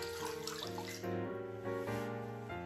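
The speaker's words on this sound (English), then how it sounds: "just put enough water in there to almost cover the pork" Tap water runs steadily into a cooking pot to nearly cover pork for twice-cooked pork, a continuous close gush with shifting pitch as the pot fills, no voices.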